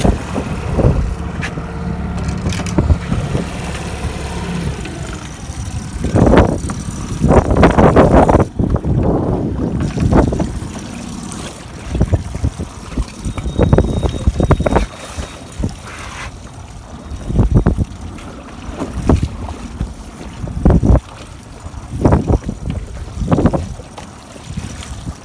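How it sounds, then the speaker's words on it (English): A small boat engine throttled down while a shrimp net is pulled for brown shrimp, a loud uneven drone mixed with heavy gusts of wind noise across the microphone and no voices. "So we'll throttle down now and see if we get anything."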